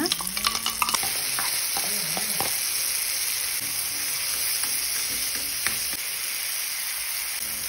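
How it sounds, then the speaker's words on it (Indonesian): Onion, tomato and chillies fry in hot oil, a steady loud sizzle running throughout with stirring scrapes and clatters near the start and a few more scattered later, no voices. "Setelah panas minyaknya, masukin bawang bombay, tomat dan percabe-cabeannya."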